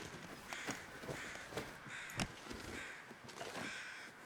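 Crows in the video game The Long Dark caw repeatedly at a distance over a steady, faint background hiss, the harsh calls spaced irregularly.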